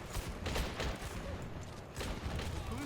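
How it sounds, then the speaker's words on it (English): A howitzer fires in a real-time strategy game, a few muffled booming shots over steady battle noise, faint and distant-sounding. "He's shooting the howitzer on its own?"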